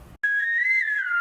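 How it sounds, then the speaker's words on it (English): Whistled melody line from a song, a clear sustained pitch sliding gently upward and then back down, loud and alone after a brief silent gap. "as the whistle goes on, it uses the same pattern but with lower notes when compared to the previous part"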